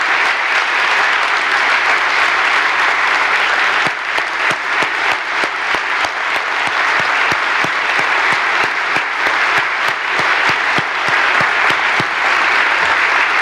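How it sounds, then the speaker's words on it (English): A large audience at the Michigan governor's 2018 State of the State address breaks into loud, sustained applause, a dense wash of clapping that stays strong from start to finish. "Let's give them a round of applause for walking across the entire UP."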